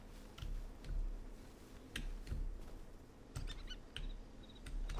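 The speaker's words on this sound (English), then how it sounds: "a little chick." A small chick chirping in the Hytale video game, faint high tweets near the end amid soft footsteps and clicky ambient game noise, no voices.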